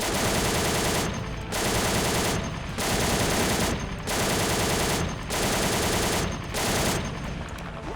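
A tank's machine gun fires in the Call to Arms war game, set in a 1990 Iraq–Kuwait battle, with loud, dense sustained bursts broken by brief pauses at a steady rhythm, and no talk over it.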